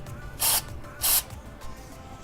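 Cleaner is sprayed into the throttle body of a Nissan 240SX in two short hissing bursts, close and fairly loud, with a faint third puff after them.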